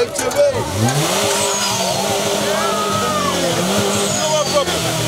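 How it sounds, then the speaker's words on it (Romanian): Dacia Logan modified to sound loud, revving at a car meet: a rising and falling engine whine with squealing, sweeping tones, close and loud, while people talk over it. "O mașină românească care știe să facă zgomot!"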